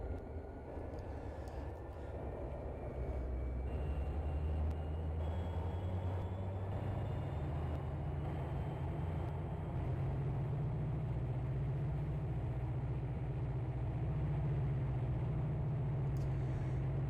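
A deep, steady diesel locomotive engine drone from a Union Pacific SD70ACe in Trainz Simulator 2 rumbles continuously, its low pitch slowly climbing to max revs, faint and unbroken throughout.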